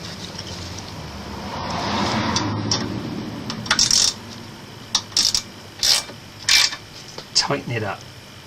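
Brake caliper bolt being tightened with a ratchet during a brake pad change, a series of short sharp clicking bursts close by after a low mechanical rumble.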